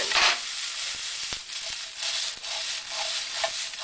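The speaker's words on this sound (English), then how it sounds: "Adding to that is 1 whole onion. Sizzle, sizzle." A soft, steady sizzle of onion and garlic frying in a pan, with a few faint clicks and stirring sounds over the hiss.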